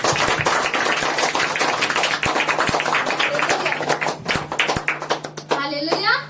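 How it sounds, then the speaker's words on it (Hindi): Worship congregation at a New Year's Eve night meeting clapping hands loudly in quick rhythm, with voices mixed in, before the clapping thins out near the end. "हम लोग परमेश्वर की उपस्थिति में हाथों को उठाकर ताली बजाएंगे परमेश्वर की उपस्थिति में जोर से"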